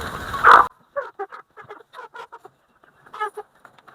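Chickens being fattened on a poultry farm cluck in a quick series of short, close calls after a brief louder squawk at the start, with no talk.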